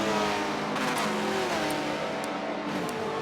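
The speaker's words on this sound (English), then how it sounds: "So we have Jello exiting the pits here, and Zip Plant able to stay ahead of Jello then" Race car exiting the pits at Road America in an online racing series, a steady, fairly loud engine drone with shifting revs and faint higher whines from other cars, no voices.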